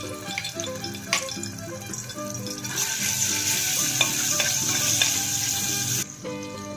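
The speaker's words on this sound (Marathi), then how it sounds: "कुकर ठेवले आहे त्यामध्ये थोडंसं तेल टाकून घ्यायचं आहे थोडंसं अद्रक लसूणचं पेस्ट आहे ते टाकून घ्यायचं आहे" Ginger garlic paste frying in oil inside a pressure cooker, a steady crackling sizzle with stirring scrapes throughout, growing more intense partway through before settling back.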